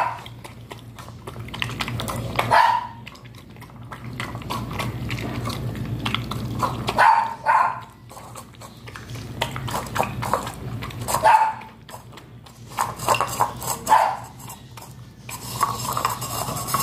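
Dog eating from a metal bowl, repeated clinks and scraping of the dish with a few sharp barks spread across the clip, close and fairly loud.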